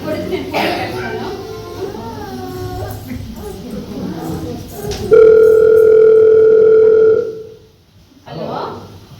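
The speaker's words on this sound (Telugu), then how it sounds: "మీ కొడుకు నేను ఫోన్ చేస్తాను." A phone call rings out with a loud, steady electronic tone lasting about two seconds after a stretch of voices and background music, then stops before more talk resumes.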